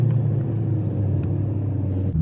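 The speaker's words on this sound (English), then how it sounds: "We're dealing with some traffic here today" Steady road traffic on a Monday evening rush hour, a continuous low rumble of cars passing nearby with no voices.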